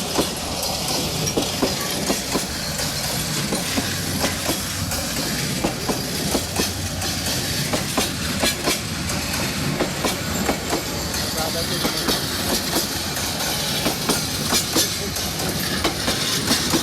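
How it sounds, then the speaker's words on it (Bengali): A long, large train rolls slowly past close by, its wheels clicking rhythmically over rail joints with a steady rumble. Voices are faintly audible beneath it. "গাইস দেখেন কত বড় ট্রেন যাইতে আছে।"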